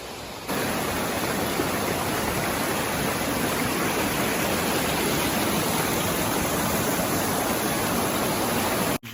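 A river flows near Daniel Boone Scout Camp in the Shining Rock Wilderness, making a loud, even rushing roar that holds steady without pause, with no other sounds.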